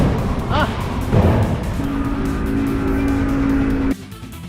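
Go-karts on a track buzz past, with a steady engine drone and a couple of short louder passes near the start before the sound drops off abruptly.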